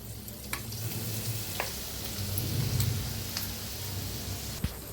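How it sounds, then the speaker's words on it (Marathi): Peanut and coconut masala sizzles steadily in hot oil with curry leaves and asafoetida, a close, continuous crackling fry with a few sharp pops and a louder bubbling swell midway. "मसाला सगळा तेलात टाकून घेतला"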